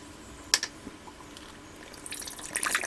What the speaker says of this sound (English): Now fill up the water until not cover the rice